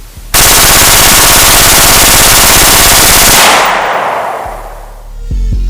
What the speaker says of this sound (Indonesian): Senjata ini menggunakan sistem blowback dengan bolt tertutup, sehingga mampu menembakkan proyektil hingga 900 peluru per menit